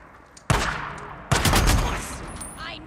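In Days Gone, two loud bursts of rapid gunfire hit close by, the second longer and denser, followed by a fading rattle.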